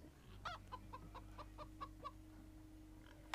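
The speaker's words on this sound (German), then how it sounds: "Kommt ein Huhn raus." A Minecraft Story Mode video game chicken clucks in a quick series of sharp, evenly spaced notes over a steady low hum, with one more cluck near the end.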